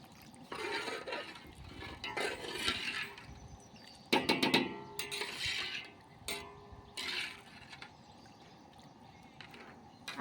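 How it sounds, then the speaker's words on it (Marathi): Heated water poured into khichdi cooking on a clay chulha stove, several close splashing, gurgling bursts separated by quieter pauses, with no voices. "आता आपण पाणी टाकून घेऊया. हे गरम केलेलं पाणी होतं ते टाकूया आपण."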